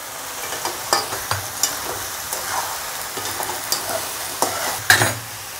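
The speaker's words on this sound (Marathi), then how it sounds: "आता आपण त्यात कोबी टाकू" Cabbage tipped into a hot pan of frying tomato for a cabbage, potato and pea sabzi, then stirred: soft sizzling throughout with scattered clacks and scrapes of the spoon against the pan, close and moderately loud, no talking.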